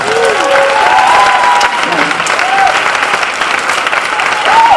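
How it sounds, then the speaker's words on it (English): Audience applause for young adult award winners at an MLK Jr. celebration, a steady sustained clapping that fills the room throughout, with scattered voices and tonal sounds rising over it. "Let us give them a round of applause."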